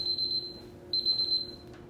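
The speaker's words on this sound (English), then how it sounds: "the timer's gone off" An oven timer beeps in two bursts of rapid, high-pitched electronic pulses separated by a short pause, clear and fairly close in a quiet kitchen.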